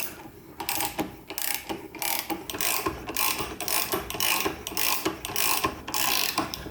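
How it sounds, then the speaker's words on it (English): A hand reamer slowly reamed through a hole under downward pressure on a Muncie 4-speed gearbox part, giving a steady run of close, rasping metal clicks and scrapes in uneven bursts. "I'm applying downward pressure on the reamer over here"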